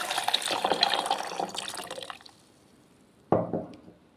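Water pours into a blender jar over raw mango, sugar and ginger for mango juice, a close splashing flow for about two seconds, then a brief second splash after a pause.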